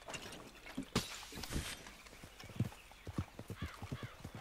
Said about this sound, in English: you scared off my fucking horse, it bolted!